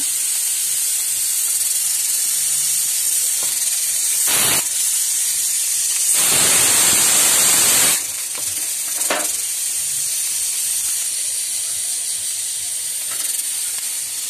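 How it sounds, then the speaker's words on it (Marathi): A kitchen pressure cooker whistles while cooking a white pea misal. Steady high steam hiss runs throughout, broken by a short sharp blast and then a louder, longer whistling burst of venting steam near the middle. "इकडे माझ्या कुकरला शिट्टी आली आहे, बघू शकता।"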